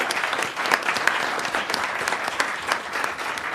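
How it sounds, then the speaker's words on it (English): Steady, dense applause from an audience at a city council meeting in Modesto, sustained and fairly loud throughout with no talk over it. "Let's give Jenny a round of applause"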